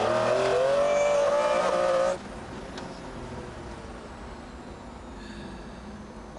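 A McLaren F1 driven hard on the Goodwood racetrack roars loudly for about two seconds with rising engine tone, then fades to a distant, lower drone as it moves away.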